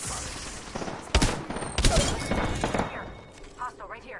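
Bursts of close, loud gunfire in a military shooter video game, several sharp volleys with brief pauses between, followed by a short voice callout near the end.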